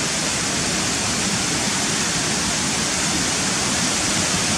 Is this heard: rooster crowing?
no